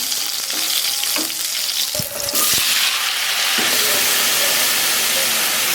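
Cardamom, cinnamon, bay leaves, green chillies and panch phoron sizzle and crackle loudly in hot oil, with a few sharp clinks of a spoon against the pan and a strong steady hiss building toward the end.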